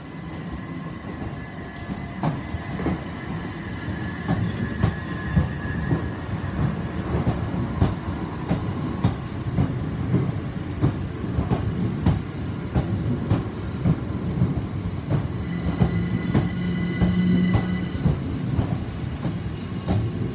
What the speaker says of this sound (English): 377428 is now departing with the 7 service to all.